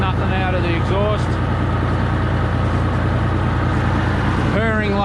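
A 1987 Volvo N12 truck engine runs at a steady, deep idle close by, its low rumble continuous throughout while someone talks over it.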